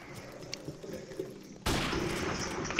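Gunfire in an online first-person shooter free-for-all match on the Shipment map, a loud burst of rapid shots starting about midway and continuing to the end, preceded by quieter distant game noise.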